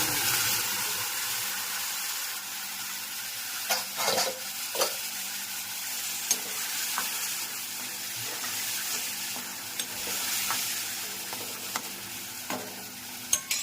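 Chickpeas sizzle in hot oil tempered with mustard seeds, cumin, fenugreek, chilli and curry leaves, a continuous hissing fry with scattered utensil clinks and stirring bumps throughout.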